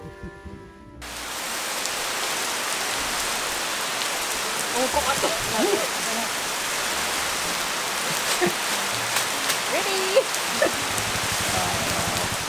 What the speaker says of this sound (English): So we're just basically hiding from the rain at the moment.